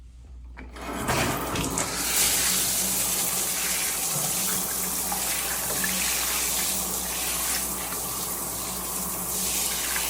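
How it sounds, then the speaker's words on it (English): Shower water gushes steadily into a freshly unblocked drain, a continuous loud hiss and splash that starts abruptly after a second of quiet and runs on alone without talk. "Turn the water on."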